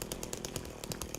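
Video game chainsaw in Silent Hill 2 Remake, a brief, fairly faint burst of rapid rhythmic buzzing pulses lasting about a second.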